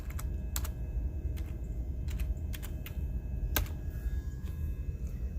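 Rapid typing on a computer keyboard, a scatter of sharp key clicks with a few louder strikes, close by and alone over low room hum.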